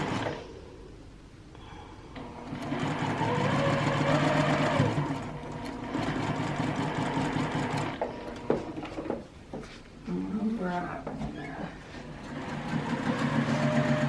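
A sewing machine stitches beginner quilt strips with a steady, busy mechanical whir, swelling and easing as the fabric feeds through, with short pauses and handling noises between runs.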